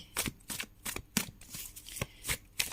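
Tarot cards being shuffled by hand, close and soft, in a run of quick riffling bursts separated by short pauses.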